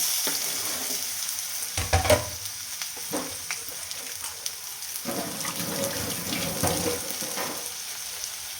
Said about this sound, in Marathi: आता लगेच ह्याच्यामध्ये बटाटा टाकून घ्यायचा